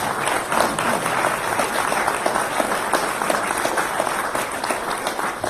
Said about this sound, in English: Let's recognize these people with a round of applause.